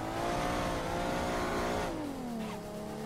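A drift car accelerating on a Brazilian championship drift track, engine revving loudly and steadily with a rising then falling pitch, sustained and close, with no talking over it.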